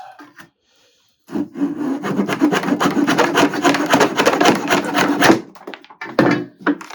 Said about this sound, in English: you're going to put all 6 sides on the sander again